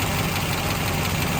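A 1970 Chevrolet Camaro Z/28 with a solid-lifter engine idles close by, giving a steady, even rumble with a faint fast ticking and no voices over it.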